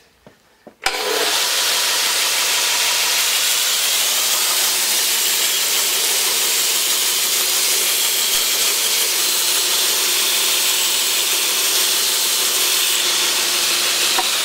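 A belt grinder polishes an axe blade on a fine belt, a steady loud broadband hiss and whir that starts abruptly after a brief quiet moment and holds evenly to the end with no talk.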